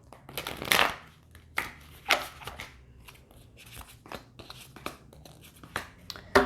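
Tarot cards riffled and shuffled in several short bursts, crisp papery flutters with pauses between, close and fairly quiet.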